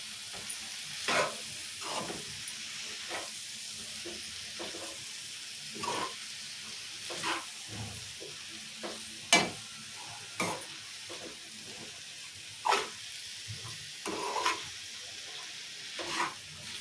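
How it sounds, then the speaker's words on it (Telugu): Flat beans (chikkudu) being stirred in hot oil in a pan, a soft steady sizzle under repeated scraping strokes of the spoon at an uneven rhythm, close and fairly quiet, with no talking. "ఇక చిక్కుడుగా మంచిగా ఇట్లా కలుపుకున్నాం కదా, ఇట్లా నూనెలో మంచిగా ఇట్లా కలుపుకోవాలి"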